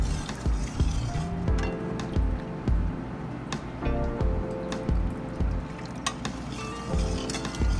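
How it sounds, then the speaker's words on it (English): Dashi stock, mirin and soy sauce are poured into a pan, giving a steady, close liquid splashing and trickling with a few faint clinks, and no talking. "Combine the dashi stock, mirin, soy sauce, and sugar in a pan."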